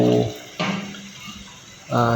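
A toilet flushes in bursts: short rushes of water come and go, with pauses between, close and moderately loud.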